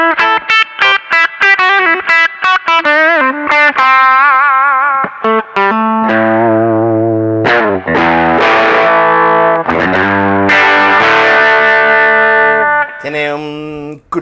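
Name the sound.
Squier Telecaster Thinline electric guitar with crunch distortion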